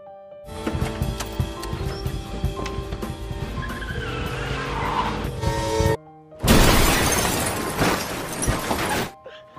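A film-scene car crash: an engine and tire skid build for several seconds, break off briefly, then a loud, dense burst of impact noise follows, close and with no talk over it.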